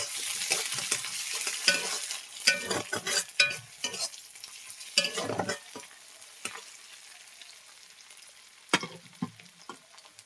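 Onions fry in oil in a pan, sizzling close by as bursts of stirring and scraping come in clusters, then ease into a quieter hiss with a few sharp clinks.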